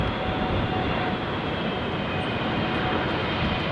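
An airliner on landing approach to London Heathrow runway 27R: a loud, steady, broadband jet roar that fills the whole stretch without a break.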